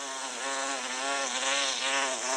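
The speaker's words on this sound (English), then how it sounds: "there is a honeybee which is collecting nectar from the flowers below and then depositing it in the hive" Honeybee buzzing as a sound effect in an augmented reality breakfast app, a steady, close, continuous drone with slight wavering pitch, heard alone.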